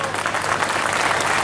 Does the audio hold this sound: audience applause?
yes